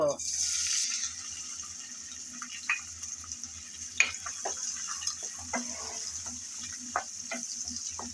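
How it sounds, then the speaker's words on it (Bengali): Shrimp frying in hot oil in a pan, with a constant hiss broken by scattered pops and crackles, close by and fairly quiet. "গরম তেলে প্রথমে আমি চিংড়িগুলো বেজে নেব"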